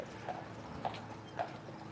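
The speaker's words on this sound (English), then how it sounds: "horse and carriage, more coming up." Horse-drawn carriage hooves clip-clop on a Mackinac Island street near the Grand Hotel, four clear, evenly spaced strikes close by over a steady outdoor murmur, with no talking.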